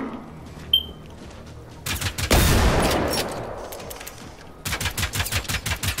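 Gunfire in the shooter video game Generation Zero: a quiet lead-in with a lone click, then a heavy blast with a decaying roar, followed by a rapid burst of repeated shots near the end, with no talk.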